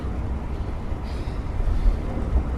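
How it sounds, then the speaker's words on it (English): Strong wind buffets the microphone on an exposed hilltop, a dense low roar with gusty swells that holds steady throughout, no voices. "Wow, this is windy, very windy up here."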